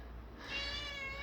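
Beany, a house cat perched on a cat tree, lets out a single drawn-out meow close by after a brief quiet moment, the call rising and holding in a clear tone.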